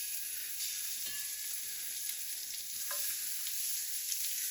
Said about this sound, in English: All right, our pan is hot and ready to go. So I'm going to go ahead and throw these shrimp down.